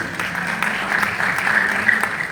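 Temple society prayer gathering audience applauds a dignitary, a short burst of crowd clapping at moderate loudness, continuous across the brief span.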